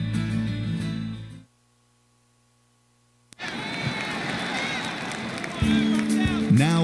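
High school football crowd at a Georgetown Eagles game roars and cheers at a distance after a brief silence, with crackling noise and shouts swelling, then a band joins in near the end.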